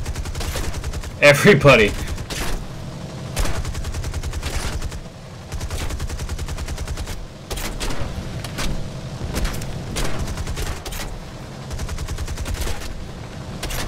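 Enemy gunfire in War Thunder during an RAF air battle over Peleliu Atoll: repeated rattling bursts of shots and sharp cracks run throughout, loud at first and then steady, and a voice shouts over them.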